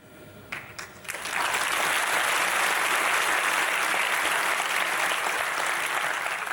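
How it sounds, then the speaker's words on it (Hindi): An audience at a spiritual talk breaks into loud, sustained applause after a second of quieter sound and keeps clapping steadily to the end. "ताली वाली बजा दी"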